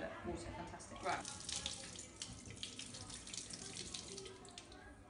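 Tap water runs steadily into a sink during hand washing in a classroom, a continuous broadband splash with a brief louder gush near the start, fairly close.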